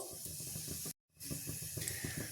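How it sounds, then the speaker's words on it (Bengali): Nigella seeds dropped into hot mustard oil give a steady close sizzle and hiss, cut by a brief silent gap before the frying resumes. "তেল আমার গরম হয়ে গেছে, আমি দিয়ে দিচ্ছি কালো জিরে।"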